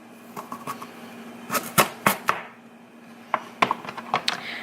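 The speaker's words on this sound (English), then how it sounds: "I will be cutting the edges here to achieve that fry look" A knife cuts food into fry-shaped sticks on a board, making irregular sharp chops and thuds in short bursts with brief pauses between them, close and clear, with no speech.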